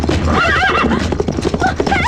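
A horse whinnies loudly in rising, wavering calls over rapid clip-clopping hooves, close and continuous throughout the short moment.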